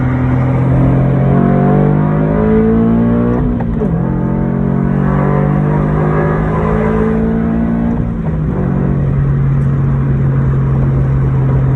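Engine of a 1994 Ford Ranger pickup at high revs in fourth gear around 5,000 RPM, a loud sustained drone with pitch dips as throttle shifts, heard from inside the cab without talk.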